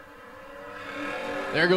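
Drag race cars, a Camaro and a Mustang, launch at a racetrack. Engines roar with a steadily rising pitch, building louder and then surging sharply at the end.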